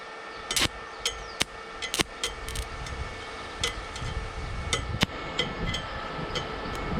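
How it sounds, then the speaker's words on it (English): A stick welder's arc struggling to start at low amperage, producing scattered sharp crackles and taps at irregular intervals over a low steady hum, close and fairly quiet, with no talking. "Now we're going to try and start a weld here, and it probably will just go and probably not even start."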